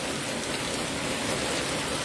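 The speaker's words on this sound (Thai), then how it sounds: "วันนี้ฝนตกอีกแล้วค่ะ" Steady rain falls on a grassy garden, a dense, even hiss of drops with no breaks or voices over the short stretch.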